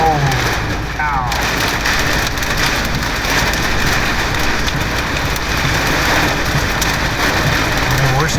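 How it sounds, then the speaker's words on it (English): Hail pounds steadily and densely on a truck during a tornado storm, a loud unbroken clatter heard from inside the cab, with an engine idling underneath. "Here comes the hail."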